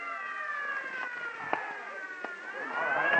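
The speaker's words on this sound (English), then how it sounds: "Clear the way for the ambulance." An ambulance siren wails with a rising and falling tone in an old-time radio crime drama. It sounds moderately distant, with a few sharp knocks and the noise growing louder toward the end.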